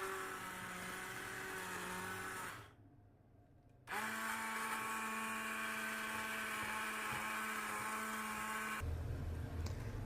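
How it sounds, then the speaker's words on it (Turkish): A blender purees lentil soup, whirring loudly, cutting out for about a second, then starting again with a steady hum that shifts pitch near the end. "Ardından blenderdan geçiriyorum. Pürüzsüz bir hale getiriyorum."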